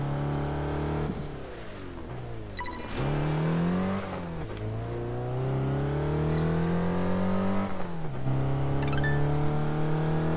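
A car engine in the racing video game Test Drive Unlimited 2 revs up repeatedly, pitch climbing and dropping through several gear-like sweeps, loud and continuous with a steady whirring tone.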